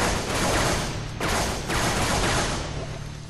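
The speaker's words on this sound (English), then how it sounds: "I love the sound of a battle rifle, man" A battle rifle in Halo 3 fires dense, loud, close bursts of shots that run almost continuously, with short dips between volleys and no talking.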